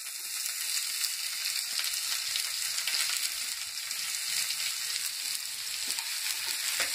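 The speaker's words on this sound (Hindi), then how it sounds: "हमें हल्का सा ही फ्राई करना है।" Onions fry in a pan with crackled mustard seeds, giving a steady, close, dense sizzle with a faint continuous hiss and no voices.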